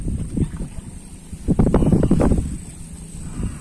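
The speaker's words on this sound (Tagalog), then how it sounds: "Lakas na ng hangin." Gusty wind buffets the microphone in heavy low rumbles, with a loud surge in the middle, outdoors near water while fishing for tilapia.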